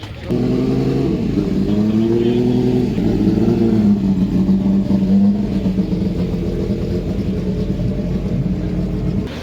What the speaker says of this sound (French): BMW M1 Procar.